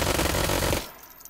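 Uzi Nano machine pistol firing 25 ACP rounds in the VR game H3VR: a loud, rapid continuous burst of gunfire lasting under a second, then a quick decay into faint echo.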